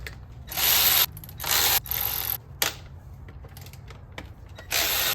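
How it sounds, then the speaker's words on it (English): Removing the timing belt tensioner on a 100 Series Land Cruiser, with several bursts of a close power tool whirring on and off between small metallic clicks and ratcheting sounds. "And then now this tensioner can come off."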